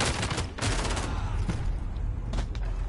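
Gunshots in a shooter video game, a few loud sharp shots and bursts over a constant rumbling game background, with no talk.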